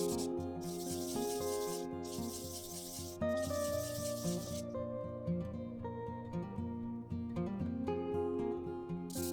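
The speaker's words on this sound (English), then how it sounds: "We just need to sand down the points where the supports were attached." Sanding support points off a HeyGears resin 3D print gives several bursts of hissing, rubbing scratches, each lasting a second or two, over steady background music.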